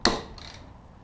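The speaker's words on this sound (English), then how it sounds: "Go ahead and turn it to loosen, and it'll crack these loose." A single sharp crack rings out at close range as a 6mm socket on an extension breaks a bolt loose on a Vespa LX150 scooter, followed by a faint secondary click and a fading ring.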